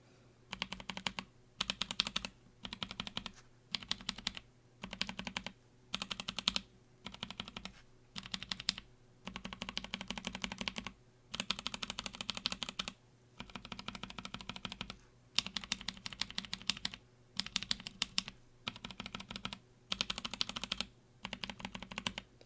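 Someone types on a keyboard fitted with NovelKeys Blueberry tactile switches, producing rapid, close clacking bursts separated by short pauses throughout.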